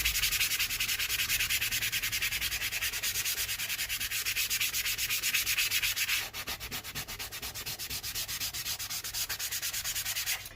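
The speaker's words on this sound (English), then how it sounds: "using the sand pad just gets rid of any rough edges that we've got there" Sanding pad rubbed back and forth over the groove of a leather boot sole, a steady rapid rasping scrape, close and even, continuing alone without talk.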